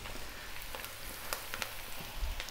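Thinly shredded kale stir frying in a pan with garlic and ginger, a soft steady sizzle with a few sharper crackles and pops scattered through it, fairly quiet and with no talking.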